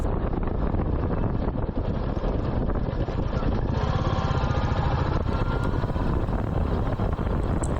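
A steady, loud engine drone with heavy wind buffeting the microphone, like a motorcycle riding at speed, continuous and without pause.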